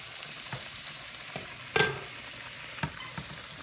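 Potatoes fry in oil in a pan with a soft steady sizzle, broken by a few scraping stir sounds and one sharper clatter near the middle, with no voices.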